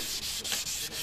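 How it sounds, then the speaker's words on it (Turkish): A car headlight being sanded with P400 sandpaper: quick rhythmic rasping strokes, about four passes in a second, close up and steady with no voices. "P400 olan zımparayla işlemimizi tamamlayana kadar biz devam edeceğiz."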